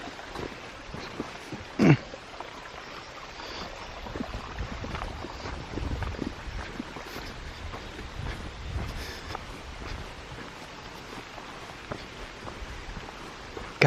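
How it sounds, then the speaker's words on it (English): Steady broadband rushing of a waterfall beside a rough hiking trail, a continuous close roar that fills the whole clip, with a single sharp knock near the start and no talking. "I guess we go under this waterfall"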